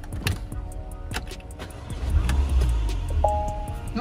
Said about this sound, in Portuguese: quando você vai colocar uma chave dessa no contato, a coisa que você mais deseja é ouvir um som digno